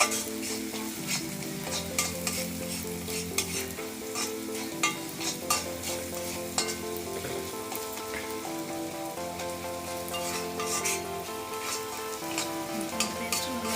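Onion, ginger garlic paste and curry leaves fry and get stirred in a thick-bottomed pan, a steady sizzle with repeated scraping strokes of the spoon under a faint background hum, no talking.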